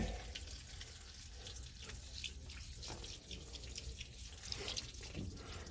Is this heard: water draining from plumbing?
yes